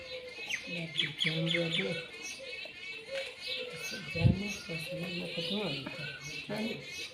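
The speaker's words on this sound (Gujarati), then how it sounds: "ને બાજુમાં ચકલાઓ પણ જો," House sparrows chirp in a home courtyard in the morning, with quick repeated tweets and brief squawks close by, heard over and between people talking.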